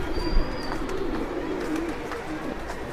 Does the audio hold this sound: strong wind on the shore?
no